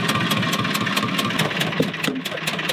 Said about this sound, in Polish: Posłuchajcie, posłuchajcie ten wydech.